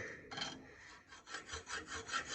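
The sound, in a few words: hacksaw cutting unknown metal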